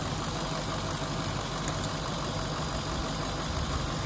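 A Nissan VK45DE V8 engine with a dual runner intake system idles steadily with a low, continuous rumble and faint high whine, no variation in pace, close by and moderately loud.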